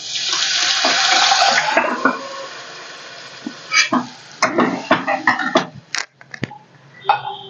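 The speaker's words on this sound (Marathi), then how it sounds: "तुम्ही त्याच्यामध्ये पाणी ऍड करू शकता" Water pours in a steady gush into a pot of khatti mithi dal, then gives way to irregular splashes and stirring sounds.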